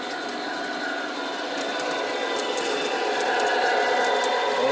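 A TMCC-controlled O gauge model train locomotive hauls a long, heavy train, giving a steady close-up whirring motor hum with faint rail clatter that grows slightly louder throughout.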